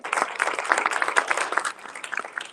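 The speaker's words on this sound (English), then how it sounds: "can we give them a round of applause?" An audience at a community event honoring a Brother's Keeper group applauds, with brisk, dense clapping from many hands that holds strong for about two seconds before thinning slightly.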